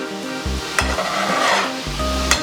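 Garlic sizzles in a hot pan while a utensil scrapes and stirs it in a few distinct strokes, the frying hiss steady underneath, close and moderately loud.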